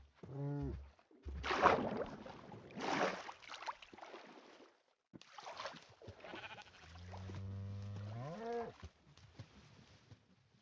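Sheep in Minecraft bleat in several wavering calls, first a short one and later a long drawn-out bleat. Louder bursts of other game noise come in between, with possible faint speech-like sound.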